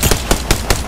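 Rapid automatic gunfire in Apex Legends, a burst of about five sharp, loud, evenly spaced shots at close range.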